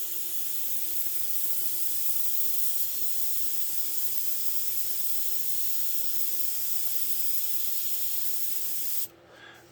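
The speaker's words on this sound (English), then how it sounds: "So if I just spray this straight out, so you can see it, it's from here." A Grex XGi airbrush fitted with a fan cap sprays straight out in one continuous, even hiss, close and steady, cutting off abruptly just before the end.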